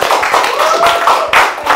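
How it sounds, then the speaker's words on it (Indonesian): Clapping from a small studio audience for the musicians Hindia and Rayhan Noor on a talk show, a brief burst of quick, close hand claps lasting under two seconds. "Tepuk tangan dong, sini tepuk tangan."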